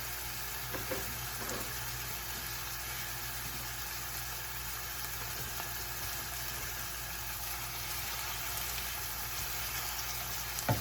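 Chopped vegetables for homemade chunky salsa sauté in a pan on a stove set to high heat, giving a faint, steady sizzle and hiss beneath a constant low hum.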